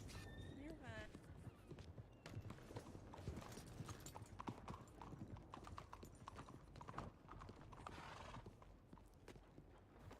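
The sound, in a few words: horse hooves clip-clopping, game horse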